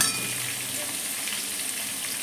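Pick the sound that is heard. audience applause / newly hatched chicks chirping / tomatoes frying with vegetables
tomatoes frying with vegetables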